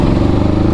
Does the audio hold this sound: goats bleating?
no